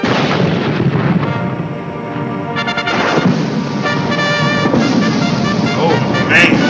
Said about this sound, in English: Fireworks and explosion. And tanks with multiple cannons.